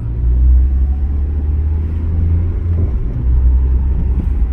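Inside a moving car, a low, steady engine and road rumble drones continuously at close range, with no talking over it.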